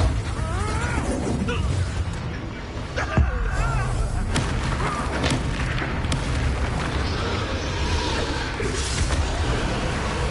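A Confringo fire spell blasts in Hogwarts Legacy during an open-world fight, giving deep booming impacts over continuous battle noise and dense effects that run the full length, with a sharper hit partway through.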